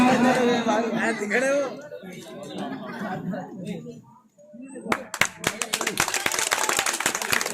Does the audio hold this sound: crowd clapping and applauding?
yes